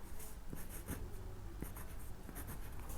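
Scratchy strokes of marking or cutting on folded fabric while making a crop top or jacket, a few short rasps over steady background hiss, close and fairly quiet.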